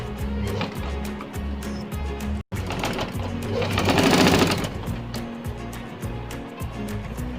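A sewing machine stitching a round neck, a rapid mechanical whir of needle strokes in short bursts with a brief pause, close and moderately loud.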